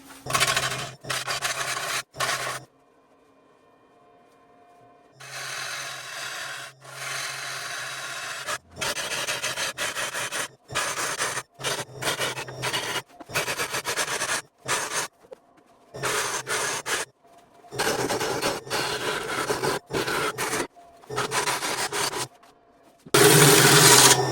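Rough wooden scraping and rasping from a lathe tool hollowing the inside of a burled maple bowl, coming in repeated bursts separated by short pauses, close and fairly loud, with no talking.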